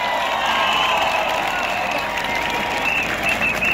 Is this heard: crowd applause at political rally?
yes